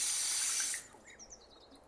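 Tap water pours steadily into a sink during wudu ablution washing, a loud broad rush for the first moment that cuts off abruptly, leaving faint drips and trickles.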